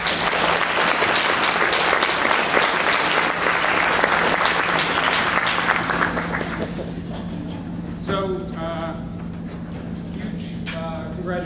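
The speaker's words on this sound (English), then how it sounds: "Maybe another round of applause" A crowd at the Digital Preservation 2013 Innovation Awards presentation claps steadily and loudly for several seconds, then the applause thins out and trails off beneath a voice talking.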